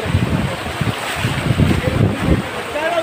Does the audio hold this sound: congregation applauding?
no